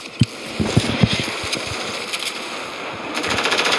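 Rapid bursts of pistol fire in the video game Fortnite, a run of sharp, punchy shots clustered early, then scattered pops over a dense, steady game soundscape, with no talking.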